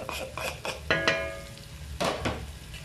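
Chicken tajine stirred in a pot, a spoon scraping and clinking against the sides in a few uneven strokes, close and moderately loud, with a brief gap mid-way and no talking.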